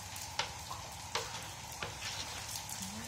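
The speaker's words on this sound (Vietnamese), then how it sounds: "mình vừa chiên đó các bạn" Rice paper crackers fry in hot oil with a steady soft sizzle, broken by three sharp crackling pops close up.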